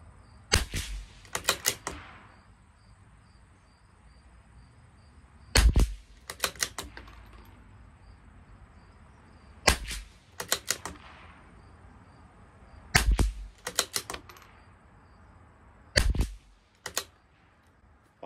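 A CZ 457 LRP rimfire rifle firing Lapua ammunition at 50 yards, sharp cracks in five clusters of about three to four shots each, spaced several seconds apart, with near-quiet gaps between them and no talk.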